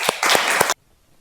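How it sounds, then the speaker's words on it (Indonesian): Classroom applause from students, a short burst of several loud, close hand claps lasting under a second, then cutting off into near silence. "Beri aplaus dulu untuk Mbak Afifah."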